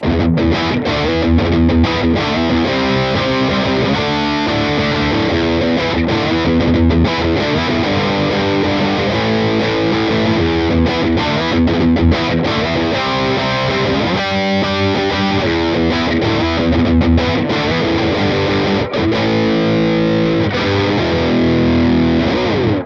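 Heavily distorted electric guitar played loud and continuously through a Hughes & Kettner Spirit Nano amp head with sag turned all the way down, crunchy chords and riffs ringing out, no talking.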